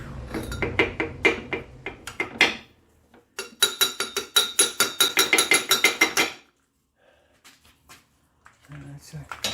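Rapid metallic hammer blows strike a stuck part during an engine change on a 2008 Dodge Nitro, in two quick runs of strikes with a pause between them. A voice speaks briefly at the end.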